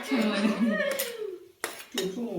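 A metal spoon or ladle clinks a few times against dishes, producing short, bright taps scattered under a person speaking close by.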